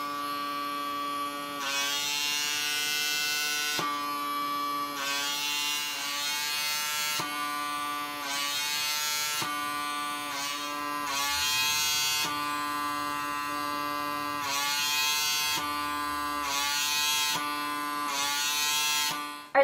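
A personal microdermabrasion device with a vacuum suction tip runs on the face, a loud, steady electric whine and buzz that shifts in pitch and intensity as it is moved and lifted, continuous throughout with no talk.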